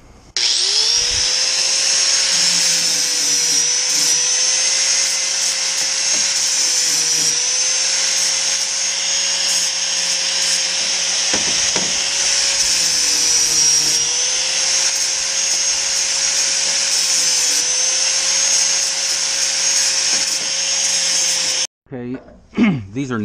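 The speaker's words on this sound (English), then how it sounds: "angle grinder with a flap disc on it and deburr these bars so I can bend them without getting cut" An angle grinder fitted with a flap disc deburrs steel bars, its high steady whine sustained loudly for about twenty seconds with only slight dips as the disc works the metal, then cutting off abruptly near the end.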